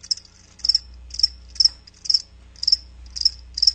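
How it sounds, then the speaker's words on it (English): Crickets chirp as a sound effect in a radio ad, in a steady run of about eight evenly spaced, bright chirp bursts heard alone over a faint low hum. "That's right, crickets."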